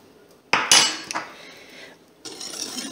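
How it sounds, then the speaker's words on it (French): A utensil scrapes and clinks against a bowl while sugar is stirred into a tiramisu mixture, giving a few close, bright metallic strokes separated by short pauses. "On remue."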